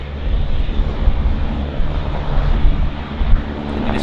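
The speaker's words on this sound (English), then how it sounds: "this Q400 is actually lined up on runway 26" A Bombardier Q400 turboprop airliner lined up on a runway at Vancouver Airport, its engines producing a steady, fairly loud droning roar from a distance, with no talk.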